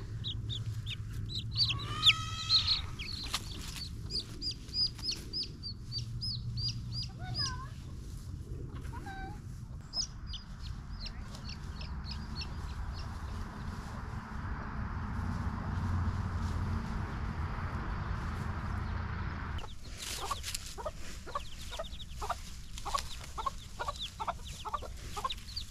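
Chickens cluck and chatter inside a homestead hen house, repeated short calls close by, with a stretch of softer rustling before the clucking returns.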